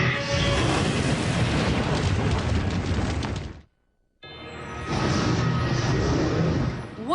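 Cartoon dragon attacking a castle: loud, dense booming and crashing commotion that roars steadily for several seconds, cuts to near silence briefly, then surges back just as loud.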